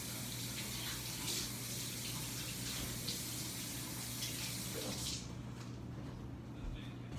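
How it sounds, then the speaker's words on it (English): Water runs steadily from a kitchen tap into a sink during handwashing, a constant close splashing hiss with slight shifts as hands move under the stream. "So I'm going to wash my hands and then we'll do the next bit."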